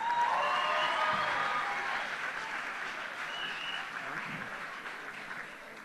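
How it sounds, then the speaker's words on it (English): An audience at the Miss Bermuda 2015 pageant gives a sustained round of applause, a dense, even wash of many hands clapping that fades slightly toward the end. "Give them another round of applause."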